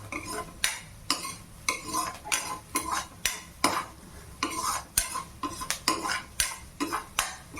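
A spoon stirs paneer bhurji in a pan, giving rhythmic, evenly spaced scraping clinks against the metal roughly every half second, close-up, with a faint sizzle beneath and no speech.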